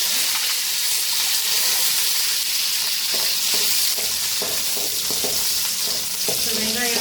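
Chopped large onions and curry leaves fry in oil in a kadai. The close sizzle is loud and continuous, broken by intermittent clinks and scrapes of a stirring spoon, with no talking.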